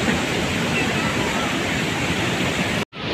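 Water pours out beneath a broken bridge like a small waterfall, making a close, steady rushing roar that continues evenly and breaks off briefly near the end before resuming.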